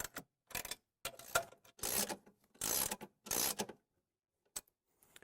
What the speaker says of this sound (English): Next, we will use our ratchet to snug the nuts up on both sides of the arm.